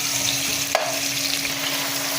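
Chicken curry with mint and coriander sizzles steadily in a pan, a close, constant frying hiss broken by a single sharp scrape of a spoon, with no voices.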